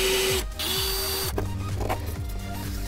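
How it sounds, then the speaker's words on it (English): Power driver unscrewing bumper bracket fasteners on a Miata, whirring in repeated short bursts with brief pauses, loud and close with no talk. "Let's go ahead and unscrew these brackets."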